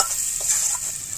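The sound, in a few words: stirring egg curry with salt and turmeric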